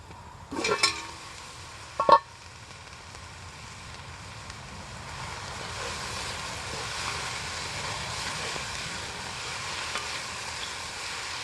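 Onions and garlic cook in a Dutch oven over an outdoor wood fire. After two sharp knocks of metal, a soft, steady sizzle builds gradually and holds without talk.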